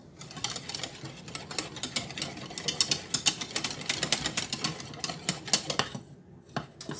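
A whisk rattles in quick, uneven metallic taps against a pot of thickening chocolate pie filling, a busy close clatter that pauses briefly near the end; no talking.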